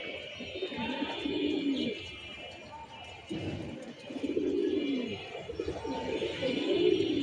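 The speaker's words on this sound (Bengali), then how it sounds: "এই কবুতরগুলা উঠতেছে বড় মসজিদের পেছন দিয়ে" Pigeons taking flight behind a large mosque give repeated, fairly close low coos in rhythmic phrases over a soft outdoor background hum.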